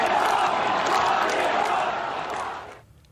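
A big stadium crowd at a World Series game at Nationals Park in Washington roars loudly and steadily, a dense wash of many voices that drops off sharply at the end.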